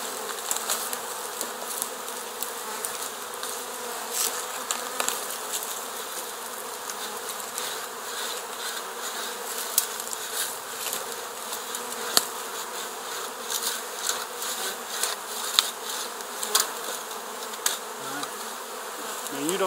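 A swarm of bees buzzes steadily and densely throughout while being captured from a bush limb, a close, continuous drone with small fluctuations and no talk.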